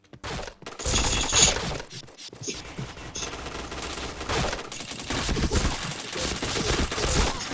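Rapid bursts of video game gunfire crackle almost continuously, loud and dense, with sharp impact and shattering sounds mixed in and no talk over them.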